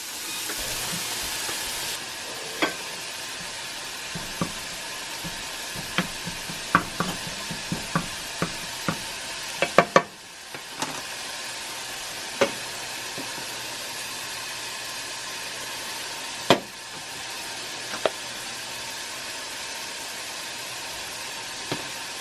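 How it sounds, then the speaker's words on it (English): Ground beef browns in a cast iron skillet with a steady broadband sizzle throughout, broken by frequent sharp scrapes and clanks of a utensil stirring against the pan, including a louder cluster of knocks near the middle. "go ahead and throw the ground beef in"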